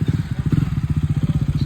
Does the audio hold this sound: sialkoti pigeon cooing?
no